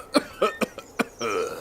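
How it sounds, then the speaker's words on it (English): A video game character from Memoranda coughs hard in about five separate, sharp bursts, followed by a rougher wheezing, throat-clearing sound. No one speaks. "He coughs so hard that I don't think he can talk at all."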